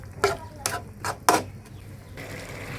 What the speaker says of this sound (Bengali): এখন এই ডাউলগুলো আমি কষিয়ে নিব